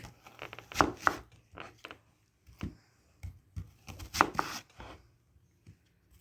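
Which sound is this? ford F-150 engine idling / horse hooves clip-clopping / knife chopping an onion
knife chopping an onion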